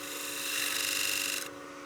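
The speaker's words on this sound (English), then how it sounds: "I'm going back to my scraper to give myself a clean shoulder" A scraper cuts a wooden coin box spinning on a lathe, giving a close, steady raspy scraping hum that swells briefly before easing off near the end.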